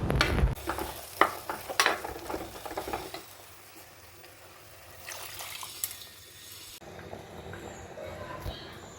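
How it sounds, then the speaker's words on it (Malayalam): Prawns and onions sizzle and crackle in a hot pan while a utensil stirs and scrapes, with occasional clatter and a steady frying hiss throughout. "കൊഞ്ചും ഉള്ളിയെല്ലാം കൂടെ വാട്ടുന്നു"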